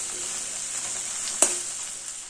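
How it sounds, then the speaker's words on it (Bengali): 500 grams of okra (bhindi) frying over a low gas flame, a steady, even sizzle up close with a single brief utensil tap midway. "গ্যাসের ফ্লেমটা লোতে রেখে 3-4 মিনিট ভেন্ডি ভেজে নেব।"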